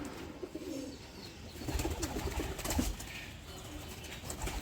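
Andhra pigeons coo softly and flap their wings nearby, with a few rustling bursts of wingbeats over a faint background.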